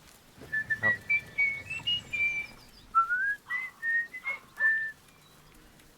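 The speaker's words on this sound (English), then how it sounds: "You hear the echo of the whistle through the woods, and you know something is amiss." Whistling echoes through the woods in the fantasy video game Baldur's Gate 3: a series of clear, faint whistled notes, one short rising phrase and then another, with soft reverberation between them.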